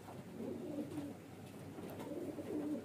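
A highflyer baby pigeon coos softly and close by in two short rolling bouts, with a quiet, still background.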